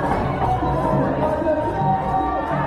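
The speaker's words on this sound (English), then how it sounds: "It is so good to hear the roar of the crowd back" A wrestling arena crowd roars and cheers for a favorite who has just cleared out the ring after a title match ended in disqualification, a dense, steady wash of many voices that holds loud throughout.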